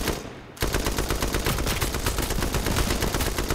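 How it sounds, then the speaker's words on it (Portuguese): A sustained burst of rapid automatic gunfire in the online shooter H1Z1, loud and continuous after a short quieter lead-in, rattling steadily for several seconds. "Que rajada, mano."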